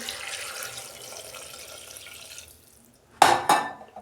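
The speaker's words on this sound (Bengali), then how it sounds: "আমি জল দিয়ে দিচ্ছি," Water pours steadily into a pressure-cooker pot of chicken and vegetables for about two and a half seconds, then stops, followed by two sharp metallic clanks of the pot or utensil nearby.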